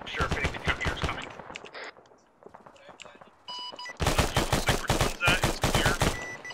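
Heavy automatic gunfire erupts during a military video game operation, bursts of rapid close shots that drop briefly to a lull before resuming even louder and denser, with voices talking over the fire.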